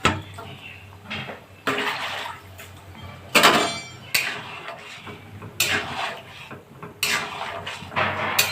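Pieces of shol fish going into a pan for a spicy curry with yam, irregular bursts of splashing, sizzle and metal pan clatter, close and fairly loud.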